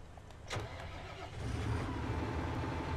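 A tractor engine in Farming Simulator 19 cranks and catches with a sharp burst near half a second, then settles into a steady, rising low rumble of idling and light revving, loud and close with no talk.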